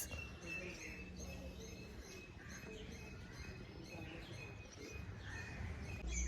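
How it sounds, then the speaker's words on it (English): Birds chirp and call faintly over a steady outdoor hiss outside a house in Ratnagiri, India, with a few scattered tweets and no other clear sounds. "you can only hear the birds"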